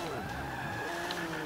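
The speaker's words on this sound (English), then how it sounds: "Let's try and drift this bad boy." Subaru Impreza 22B racing in the Forza 5 video game, with a continuous loud engine drone and a sustained screech of drifting, skidding tyres over the whole stretch.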